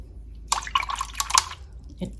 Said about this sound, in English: when I wash my brush in the water